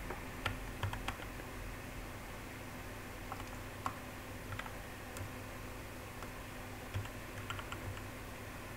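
Typing on a computer keyboard while entering a PHP artisan command: quick irregular key clicks, scattered taps and short bursts, close and fairly quiet against a low room hum, no talking.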